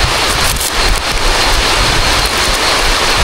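Loud, dense hiss of heavy rain pouring steadily, mixed with gusty wind roar against the microphone, continuous and close, with no talking.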